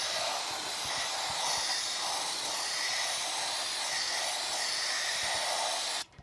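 Compressed air hisses steadily from a nozzle as it blows debris out of the hydraulic grooves on a Ford tractor, a loud continuous rush that cuts off abruptly near the end.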